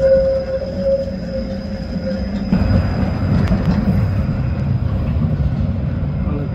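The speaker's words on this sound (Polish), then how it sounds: "Tramwaj będzie jechał." A tram rumbles past close by, a low rolling drone with a faint high whine of wheels, steady and loud throughout.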